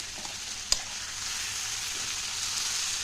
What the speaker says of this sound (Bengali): এবার আস্তে আস্তে একটু নাড়িয়ে নাড়িয়ে আর একটু ভাজাটা করে নেব